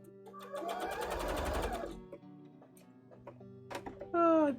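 A sewing machine runs steadily for about two seconds as it stitches puffy pumpkin shorts, a fast even mechanical chatter, followed by quieter clicks and soft voices talking nearby.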